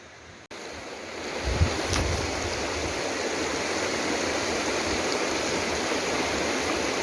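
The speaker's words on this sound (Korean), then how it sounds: "지금 여기 호수 아래로 아래로 계곡물이 흘러가고 있고" Valley stream water flows below a lake beside the Ssanggyeru pavilion at Baegyangsa temple on a rainy day, a steady, even rush of water that starts abruptly and continues without talk.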